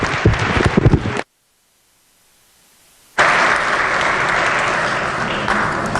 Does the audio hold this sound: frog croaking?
no